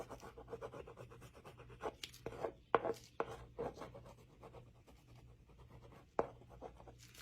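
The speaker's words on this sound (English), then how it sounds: "And that way you can just kind of get some jaggedy lines, grab the texture of the canvas" An oil stick drags across textured canvas in irregular scratchy strokes, producing jagged, close, fairly quiet scraping marks with a few sharper taps along the way.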